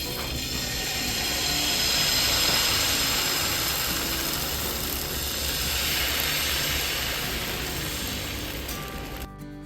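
Appam batter, a fermented rice batter ladled onto a hot pan, hisses and sizzles in a loud, steady broadband wash that swells and eases over several seconds before cutting off abruptly.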